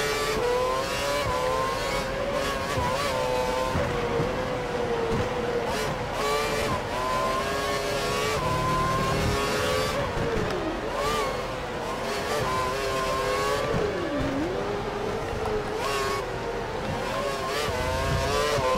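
A Formula 1 racing car in the video game F1 2012 on the Spanish circuit, its high-pitched engine droning continuously with shifting revs, loud and constant throughout with a faint tire squeal in places.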